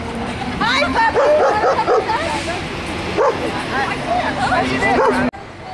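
A dog yips and barks repeatedly amid a noisy street march, its sharp calls rising over the crowd's murmur and nearby voices, moderately close.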